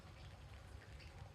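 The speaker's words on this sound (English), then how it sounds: "It's starting to rain." Light rain falling outdoors, a soft continuous patter of drops at low level with a faint low rumble underneath, no voices.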